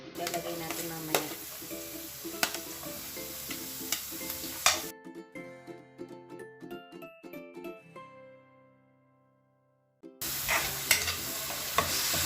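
Ground meat sizzling and being stirred in a pan, a close, busy crackle with scraping strokes that breaks off for a few seconds of soft tonal music before the frying returns.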